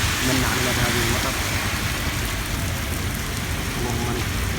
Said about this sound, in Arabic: وأمطار الحمد لله بلغ الحر ذروته، والله سبحانه وتعالى من علينا بهذه المطر.